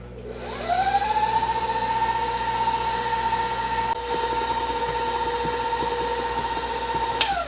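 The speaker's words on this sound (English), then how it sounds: "we're going to continue to mix for another 3 minutes. 5th gear." A stand mixer runs at high speed, creaming pound cake batter: a steady, loud motor whine with a constant tone that holds evenly from start to end, with no talking.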